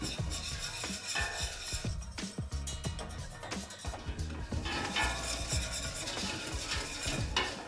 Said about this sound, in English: The flour is roasted by mixing for 5 minutes.